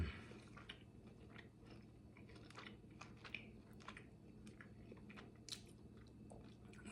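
Someone bites and chews smoked pork ribs close by, with a steady stream of soft, irregular crunches and wet clicks over a low background hum, and no talking.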